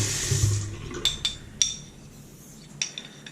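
A short trickle of water poured onto a hard Ozuku Koppa whetstone at the start, then a few small sharp taps and clinks of metal in a quiet room.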